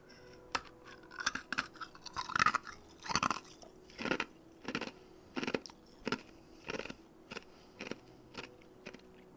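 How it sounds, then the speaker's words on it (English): Ice cubes being chewed close up, a steady series of about a dozen sharp crunching bites at a regular rhythm, loud against a quiet background with no talking. "I think I'm gonna start chewing on this ice now."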